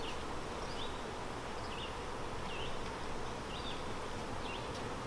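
Honeybees hum around open beehives during queen cell building. The dense, steady buzz is close and continuous, with individual bees droning past.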